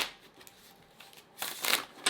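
Tarot cards rip shuffled near at hand, a soft riffling burst toward the end after quieter light handling sounds, with a brief final flick.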